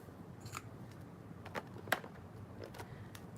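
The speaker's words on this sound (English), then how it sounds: "Put my scissors back." Scissors used for cutting vinyl are set back down, making a few faint clicks and one sharper clack against a quiet background.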